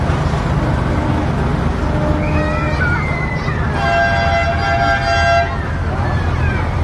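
A vehicle horn toots in sustained, tonal blasts over steady loud background noise and talking, during an evening tractor run.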